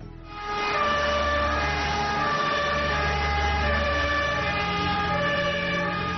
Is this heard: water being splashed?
no